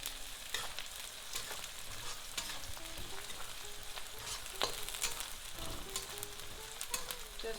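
Vegetables with chopped green chilies sizzle steadily in a pan for an aloo gobi sabzi, with scraping stirs and spatters throughout. The steady, moderately quiet frying carries on with no voices.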